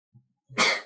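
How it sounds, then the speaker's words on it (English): A single sharp sneeze, close and loud, preceded by a faint quick intake of breath. "Ooh, I'm gonna sneeze."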